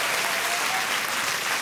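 A congregation at a French-language sermon bursts into applause, a thick, even wash of many hands clapping that holds at full strength without a break.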